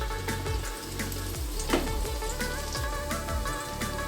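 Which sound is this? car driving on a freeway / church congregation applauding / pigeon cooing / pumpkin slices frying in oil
pumpkin slices frying in oil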